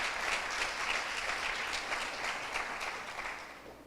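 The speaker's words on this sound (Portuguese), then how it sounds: "Vamos dar uma salva de palmas ao Senhor." A church congregation applauding in praise, steady massed clapping at moderate distance that fades slightly toward the end, with no speech over it.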